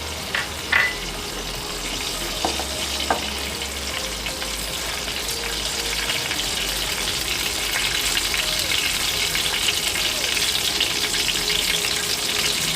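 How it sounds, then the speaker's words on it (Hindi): Mustard seeds and cumin sizzle in hot melted ghee, a steady hissing fry that thickens and grows louder, with a few light clicks of utensils early on. "घी पिघलने के बाद इसके अंदर हम सरसों और जीरा डाल देंगे।"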